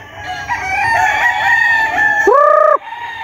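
Young roosters (stags) crow loudly and close by on a farm, one long wavering crow followed by a sharper, brief second crow, with faint background noise and no talking.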